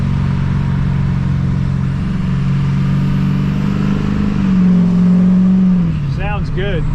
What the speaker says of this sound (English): But I really like that engine braking.